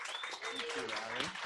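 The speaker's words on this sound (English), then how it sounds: "Give another round of applause to Allie." Applause from a small meetup audience at a show-and-tell event, a steady dense patter of clapping lasting the whole moment, with voices and cheers mixed in over it.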